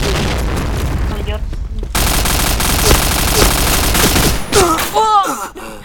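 Rapid automatic gunfire from the online shooter Point Blank, loud and dense bursts filling the clip with a brief gap near the start, then sharp shots with ringing tails toward the end.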